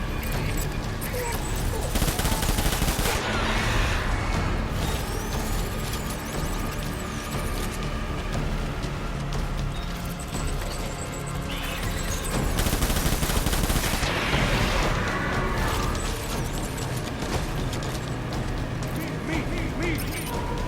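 Soldiers opening fire in Death Stranding, a sustained rattle of overlapping gunfire and fusillades lasting throughout, loud and close with bursts swelling and fading, with voices shouting commands amid the shooting.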